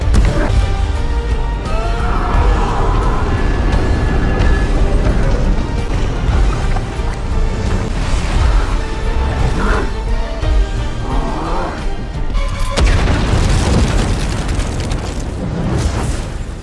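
A bomb detonates beneath characters in a superhero film scene: a long, loud booming roar with crashing debris and rumbling, then a fresh sharp blast surges near the end.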